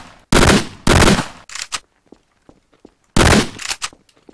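Gunfire from a weapon in the sandbox game Garry's Mod: three loud, close blasts, two in quick succession and one after a pause, with faint clicks and thuds between them and no talk.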